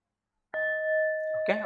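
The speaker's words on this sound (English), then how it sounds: "Bell vibration was continuing" A single bell is struck during a quiet mindfulness session, its clear ringing tone sustaining and vibrating evenly for about a second before a voice begins speaking over its fading end.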